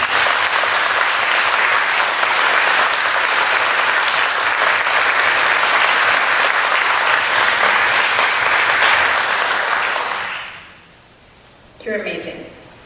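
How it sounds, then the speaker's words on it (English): Loud, dense audience applause at a dessert concert, sustained for about ten seconds before fading out, followed by a brief voice speaking. "Can we give her a round of applause?"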